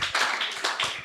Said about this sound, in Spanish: Denle un aplauso al Señor Jesucristo, porque Él es bueno